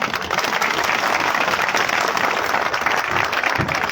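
A crowd at a public gathering in a village, where a mother-goddess statue is being installed during a fair, claps in steady, continuous applause that stays dense and even for several seconds.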